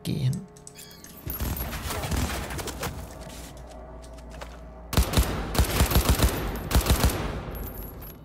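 Automatic gunfire rattles in rapid bursts during VR combat training in Cyberpunk 2077, loud close fusillades with sharp repeated shots, partly overlapped by game voice prompts.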